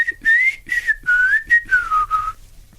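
Melodic whistling from a song, a short phrase of clear gliding notes in several separate bursts, close and prominent over near silence.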